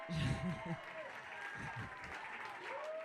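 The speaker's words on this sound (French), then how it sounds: "Et vous pouvez les applaudir bien fort." Applause from spectators at a pony-games prize ceremony, moderately loud and steady for about three seconds, with a voice and other voices heard over and under the clapping.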